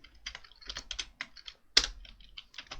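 Typing on a computer keyboard while entering CSS code in a text editor, with quick bursts of close key clicks in short clusters and one sharper, louder keystroke partway through.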